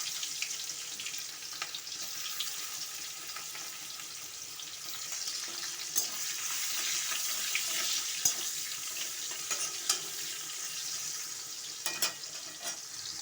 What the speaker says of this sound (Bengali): ওই তেলে আমি পেঁয়াজ ফোড়ন দিয়ে দেবো।